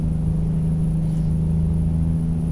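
Kenworth W900 truck engine in American Truck Simulator, a steady low droning rumble held at constant volume throughout, with no voices.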